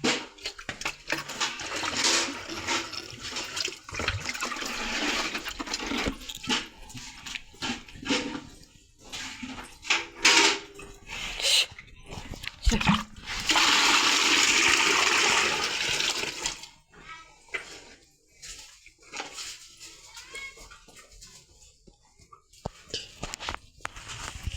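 Water splashes and pours in uneven bursts for cattle to drink at a rural village home, with a sustained gushing stretch midway and quieter trickles and knocks toward the end.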